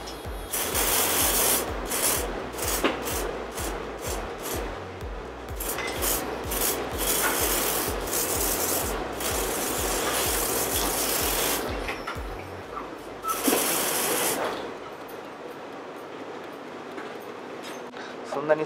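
Hair spray hisses onto hair in repeated long bursts while styling a glossy, wavy natural-look set, the spraying close and fairly loud with brief pauses and a quieter tail at the end.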